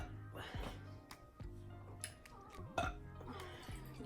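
Burps come from someone eating a Little Caesars pizza, several low, rumbling belches spread over a few seconds, with faint clinks of dishes and cutlery and quiet talk in the room.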